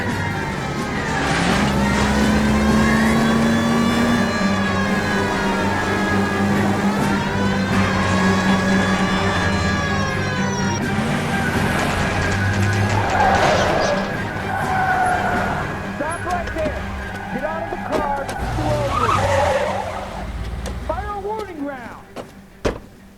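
Engine roar and tire noise from a car chase in the L.A. Noire video game, a loud sustained rev with shifting pitch and skidding squeals, mixed with music and game effects for most of the clip.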